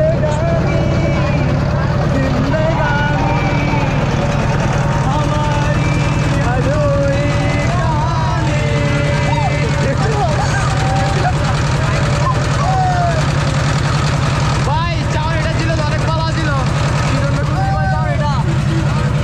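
A motor boat chugs along steadily, its low engine drone continuous and close throughout, while rain falls and a group of people sing and chatter together on board.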